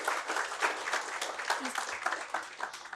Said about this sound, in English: Let's have a huge round of applause for Krishna again.